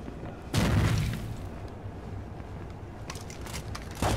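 A frag grenade blows up with a deep, muffled boom in the tactical shooter Rainbow Six 3 Raven Shield, followed by a rumbling tail and a few faint gunshot-like pops, with no talking.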